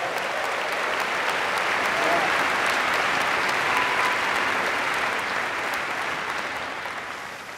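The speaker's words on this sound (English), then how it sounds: "please join me in giving a big round of applause to all the parents, family, and friends of the class of 2018" A large audience at a business school graduation ceremony gives sustained, dense applause for nearly eight seconds, holding steady and then tapering off near the end.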